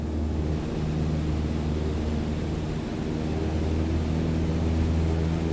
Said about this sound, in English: Alright, go full throttle and start climbing.